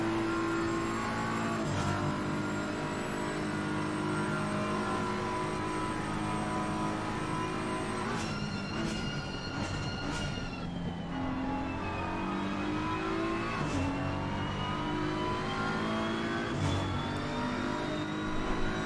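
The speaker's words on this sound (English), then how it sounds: "You can just listen to his engine." A racing video game car engine at Mount Panorama revs and shifts through gears, its pitch climbing and dropping with steady droning tone, no talk over it.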